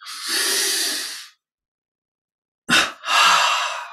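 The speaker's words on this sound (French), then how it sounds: "Double inspire par les narines. Double expire par la bouche." Forceful breaths during a yogic energization breathing exercise, a long breath followed after a silent pause by a double exhale through the mouth, two quick breathy pushes, close and loud.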